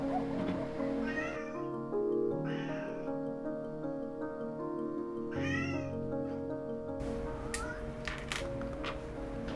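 A grey mixed-breed cat in an animal shelter meows several times in clear drawn-out cries, close by, with quiet background and no talk.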